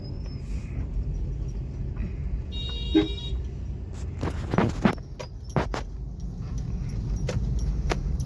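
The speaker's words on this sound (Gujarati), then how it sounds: "આજે ટ્રાફિક તો લાગે વડનગરમાં" Road traffic in the town of Vadnagar on Shivratri, with a steady engine rumble, a car horn tooting, and several short clatters and knocks passing nearby.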